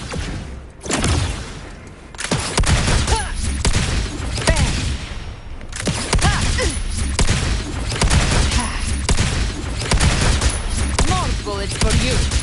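Rapid volleys of gunfire in the video game Wuthering Waves on PS5, dense overlapping shots and thuds that continue almost without pause, loud and close, with game voices briefly audible.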